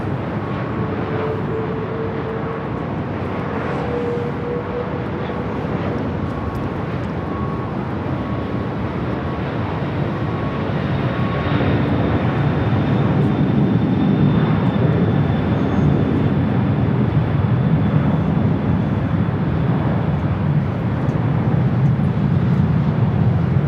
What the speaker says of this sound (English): DHL ABX Air Flight 105 heading to Phoenix, converted 767.